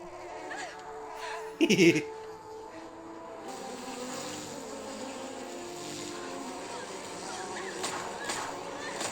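A steady insect-like drone hums throughout, a continuous buzzing of a swarm of bees with a brief louder burst near the start.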